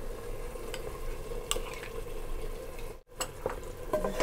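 Curd being stirred into a frying mutton masala for potato curry, a thick steady sizzle under wet scraping stirs, close and continuous, with one brief pause and no talking.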